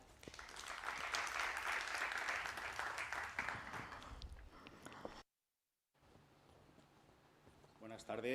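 Audience at a technology conference in Valencia applauding a speaker as he takes the stage, a broad burst of clapping that fades out, then a moment of silence before quiet room noise returns.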